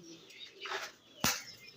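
Pigeons in a pigeon loft on a farm, a soft coo under light background murmur, then a sharp short flutter or clap near the end.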